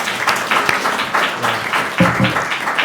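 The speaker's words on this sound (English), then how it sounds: "You don't have to clap individual poems." Brief audience clapping after a poetry reading at a literary conversation event, a short burst of scattered hand claps from a modest crowd, moderately loud and fading within a few seconds.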